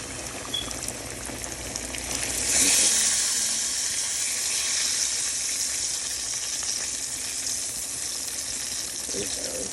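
Pork chops fry in a pot of hot grease for smothered pork chops, sizzling loudly and steadily throughout, with the hiss swelling briefly as more pieces go in.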